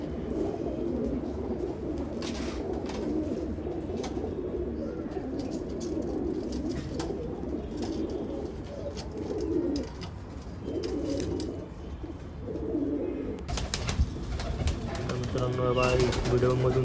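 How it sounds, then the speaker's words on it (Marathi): Pigeons kept for sale coo repeatedly and close by in soft, throaty phrases, with light background noise throughout and a brief burst of sharper sound near the end. "तर मित्रांनो या कबुतरांची क्वालिटी कशी"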